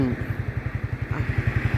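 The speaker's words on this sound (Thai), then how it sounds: "นั่นใครขับรถไถนะ่ะ" A farm tractor's engine chugs steadily nearby in a fast, regular low thumping rhythm, with faint talk in the background.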